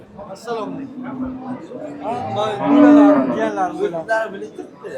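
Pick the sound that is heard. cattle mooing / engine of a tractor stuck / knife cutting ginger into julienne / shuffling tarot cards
cattle mooing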